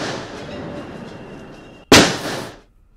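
A single sharp, loud IED blast during bomb disposal erupts after a stretch of low rumbling background, its roar trailing off quickly into near silence.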